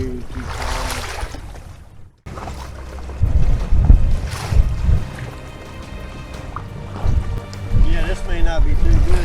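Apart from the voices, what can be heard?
choppy waves around a kayak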